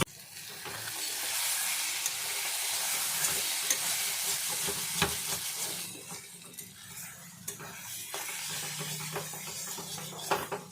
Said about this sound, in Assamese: মগু দালিখিনিও কলপচলা মছলাৰ লগত মই ভালদৰে ভাজি ল'ম 3 মিনিট।